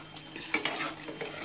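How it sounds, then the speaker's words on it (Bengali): Chicken being stirred and sautéed in a pan, with two sharp close spoon-against-pan scrapes and clinks over a low background sizzle, brief and with no voices. "ভালো করে কষিয়ে নিচ্ছি"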